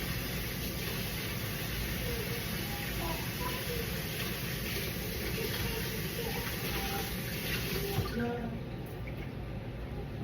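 Water runs steadily into a kitchen sink while a silicone spatula is washed, a dense, constant rushing hiss that holds level throughout and thins slightly near the end.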